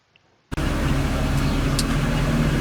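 A Geo Tracker car engine suddenly comes on after near silence and then runs at a steady, loud, even drone, with no voices.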